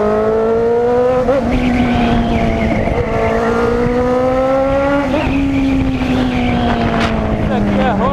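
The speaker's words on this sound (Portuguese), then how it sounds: "É o Max da Hornet que tá pilotando" A fuel-injected Honda Hornet motorcycle rides past with a loud, continuous engine drone that rises and falls through gear changes. The engine stays close and dominant, with a brief sharp accent near the end.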